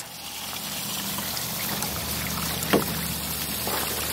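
Gray water drains from an RV tank through a sewer hose, a steady rushing, trickling flow close by with a faint hiss above it and one brief knock partway through, no talking.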